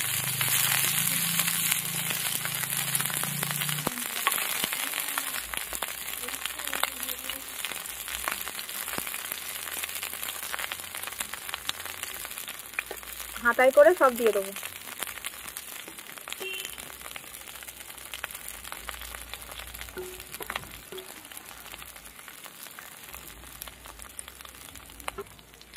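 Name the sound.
capsicums frying in hot white oil in a frying pan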